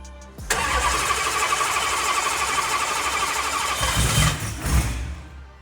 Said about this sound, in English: This is, by definition, a cold start, even inside.